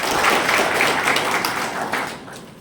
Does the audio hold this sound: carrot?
no